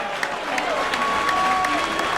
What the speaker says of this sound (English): I'm clapping for these guys.